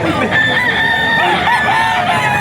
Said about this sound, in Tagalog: Yan, mga manok ni Boss Jun.